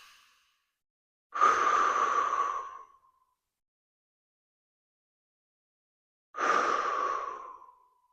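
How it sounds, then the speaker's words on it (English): Two long, deep breaths drawn into the belly during a twisting hip mobility stretch, each a close, breathy rush lasting over a second, separated by several seconds of silence. "I'm taking a couple deep breaths into my belly"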